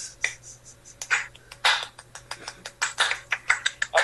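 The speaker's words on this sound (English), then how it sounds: "I'll give it a golf clap." Soft, light golf claps patter in an uneven run of quick, thin hand slaps, close and fairly quiet.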